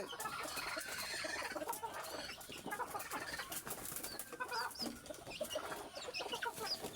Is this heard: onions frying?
no